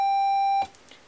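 A steady, pure synthesizer tone from a VCO routed through a buffered multiple on a DIY modular synth holds evenly for about half a second, then cuts off abruptly, followed by faint handling noise.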